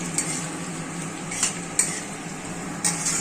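Square-cut capsicum stir-frying in a pan gives a soft steady sizzle, broken by several sharp clinks of a metal spatula against the pan.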